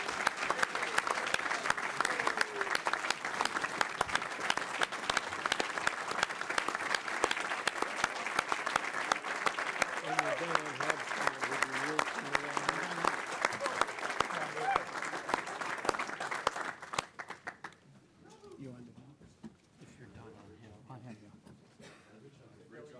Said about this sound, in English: Mr. Hobson, a round of applause.